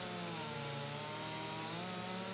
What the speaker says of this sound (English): Come on, little chainsaw.